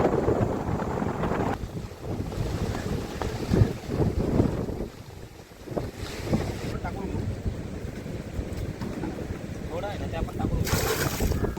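Strong sea wind buffets the microphone in a rough, gusty roar, with surf and waves churning beneath it on a stormy coast and someone talking over the noise.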